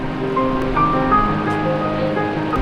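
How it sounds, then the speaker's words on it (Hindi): Continuous broadband rushing of the Seven Sisters Falls in Cherrapunji, Meghalaya, seven streams falling together, steady and unbroken, with faint tonal hum in the background and no voices. "7 धाराएं मिलकर बनाती हैं इस झरने को।"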